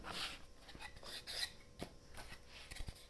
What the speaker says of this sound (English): we're just going to do a couple of swipes on the shooting board